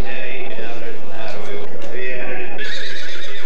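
Horses neighing and whinnying at the New Holland, Pennsylvania horse auction, with hooves clopping and a busy crowd murmuring throughout, loud and continuous.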